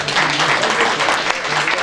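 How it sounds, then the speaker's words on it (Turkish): Audience applause at a breakfast gathering of the Gölköy federation with Ordu press and artists, honoring the chairman: dense, continuous clapping from a room full of people, brief and loud, with some voices underneath. "Bir alkışlayalım başkanım"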